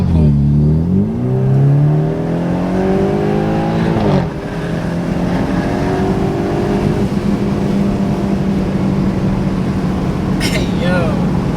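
A BMW F31 fitted with a CTS Turbo high-flow catted downpipe makes a loud acceleration pull, the engine note climbing steadily through the revs with a brief dip at a gear change and voices talking over it.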